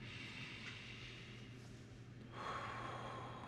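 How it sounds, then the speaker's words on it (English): Slow, deep breathing during a guided meditation: a steady inhale through the nose followed by a fuller exhale through the mouth, close and quiet, with no talking. "So let's take some deep breaths in through the nose and out through the mouth."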